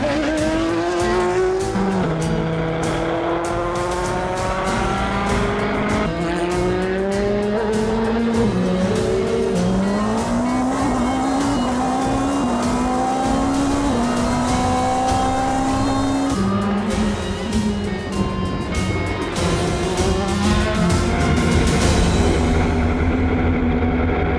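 Race cars at Le Mans pull out of the pits with loud, continuous engine roar, revs climbing and shifting through gears, close and dominant with no talk.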